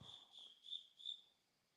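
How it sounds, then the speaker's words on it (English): Crickets chirping outdoors at night in Indiana, a steady high trill pulsing in a few loud swells, heard alone with no talk. "Your crickets are off the chain tonight. They're super loud."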